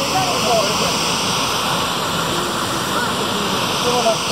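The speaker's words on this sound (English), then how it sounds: "there just happens to be a giant waterfall over here" Constant roaring rush of a giant waterfall in Mongolia's Orkhon Valley, a dense steady broadband wash heard from a moderate distance with no pauses.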